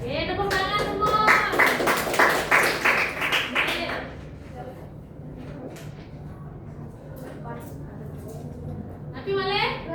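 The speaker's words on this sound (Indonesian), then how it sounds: "Tepuk tangan mohon." Several people clap hands together in a room, a dense burst of clapping for about four seconds that then fades into sparse taps, with a short second round of claps at the end and voices nearby.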